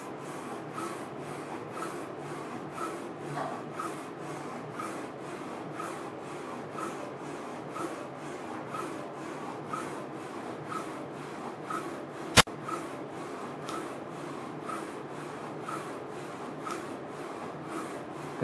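Steady mechanical whirring and rubbing from a Focus Alpha-Jet 21 UV printer printing on a rotating bottle runs continuously, with a soft rhythmic pulse and one sharp click midway.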